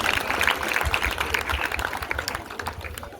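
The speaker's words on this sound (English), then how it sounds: "I think I also deserve a round of applause" A crowd at a junior school event claps in a dense, continuous patter, fairly close and steady, tapering slightly toward the end.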